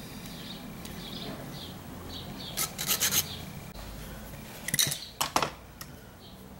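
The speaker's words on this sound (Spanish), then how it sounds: "A esta base la voy a cortar." Cutting through the base of a rabbit-ear TV antenna, heard as quiet rasping and rubbing strokes with a few sharper bursts of scraping, close by with no talking.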